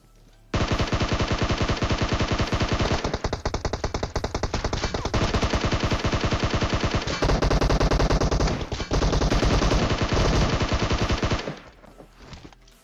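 Sustained automatic gunfire in the battle-royale game PUBG Mobile, loud dense bursts of rapid shots running nearly continuously for about eleven seconds with brief gaps between volleys, no talking.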